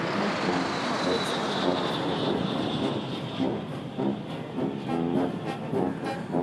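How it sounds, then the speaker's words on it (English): Engine roar of Puma military aircraft flying in formation over a parade ground at a UPDF military show, a loud sustained drone that slowly shifts pitch as it passes overhead. "we will have one of the Puma 4 aircraft coming back here on the parade grounds"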